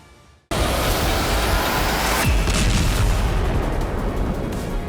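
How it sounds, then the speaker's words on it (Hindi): A sudden loud blast erupts after a brief quiet moment, followed by sustained roaring rumble and crackling debris that stays loud to the end. "ऐसा ही धमाका हो"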